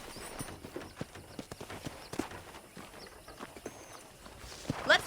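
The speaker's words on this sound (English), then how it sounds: "I picked out a fine horse for you." Horse hooves clip-clopping on a ranch in the Red Dead Redemption game, an irregular walking rhythm of close hollow knocks over faint background ambience, ending in a brief louder burst.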